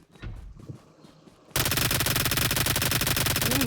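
Automatic gunfire from PUBG Mobile breaks out suddenly after a quieter start with faint clatter and continues as a loud, rapid, steady burst of shots to the end.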